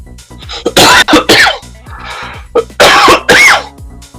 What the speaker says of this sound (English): I'm coughing on nothing here.